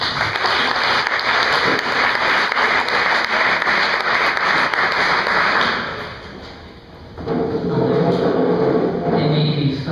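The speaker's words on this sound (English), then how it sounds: "Let's give her a round of applause." An audience gives loud, dense applause that fades out after about six seconds, then a second burst of clapping rises again near the end.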